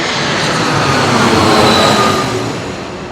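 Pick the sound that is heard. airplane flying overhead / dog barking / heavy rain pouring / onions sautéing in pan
airplane flying overhead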